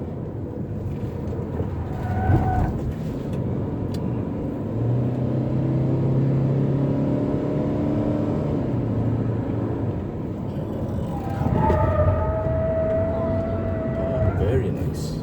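A 2019 Subaru Forester drives on an on-road test track in Taiwan, its engine and road noise a steady rumbling drone that swells as it accelerates, with someone talking over it.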